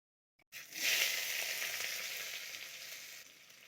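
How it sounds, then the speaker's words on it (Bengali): Onion and potato dropped into hot oil in a pan burst into a loud sudden sizzle that slowly settles into a steady frying hiss, close and with no voices. "তেলটা গরম হয়ে গেছে, পেঁয়াজটি দিলাম।"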